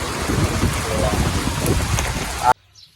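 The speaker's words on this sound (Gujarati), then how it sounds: "જો તો વરસાદ ખાસ આવી રહ્યો તમે જોઈ શકો છો" Heavy rain pours down in a dense, steady roar, then cuts off abruptly to near silence.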